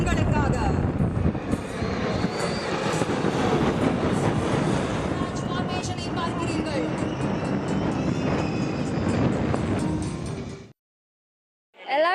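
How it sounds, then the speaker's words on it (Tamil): A Rafale fighter jet tears past at the Marina Air Show in Chennai, a loud broad rushing roar that fills about ten seconds over open-air crowd noise before dropping away sharply. "கண்ணிமைக்கும் நேரத்தில் ரஃபேல் போர் விமானம் காற்றை கிழித்து கொண்டு சென்றது"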